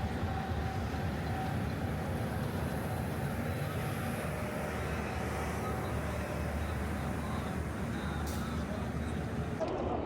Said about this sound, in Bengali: আমাদের ট্রেন চলে আসছে 15 মিনিট আগে।